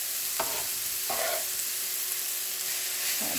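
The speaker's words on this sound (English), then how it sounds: "I'm actually putting it in a hot skillet with some grapeseed oil. I'm just going to give this a little sear." Shredded jackfruit searing in grapeseed oil in a hot skillet gives a steady, bright sizzle, broken by a few soft stirring scrapes.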